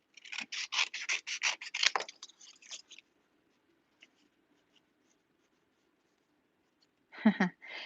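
Small scissors snip around a tiny stamped paper image with a quick run of crisp, close cuts, then a long quiet gap before a final short burst of snipping.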